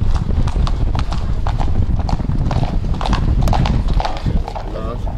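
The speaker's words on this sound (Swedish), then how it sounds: "A lot of horses." Horse hooves clip-clop steadily and close by at the stables near the Giza pyramids, a busy rhythmic clatter of many horses with people talking over it.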